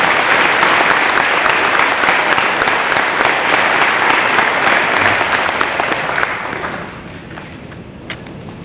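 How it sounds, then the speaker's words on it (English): A large crowd at a high school Veterans Day tribute applauds loudly and steadily for about six seconds, then the clapping fades away to a few scattered claps and quiet room noise. "Give our staff a round of applause for their family members."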